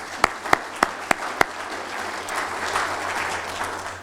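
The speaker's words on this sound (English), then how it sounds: "I think 200 grand's worth a round of applause." Audience applause at a university lecture, opening with five loud, evenly spaced single claps before a broad wash of clapping from a crowd swells and holds.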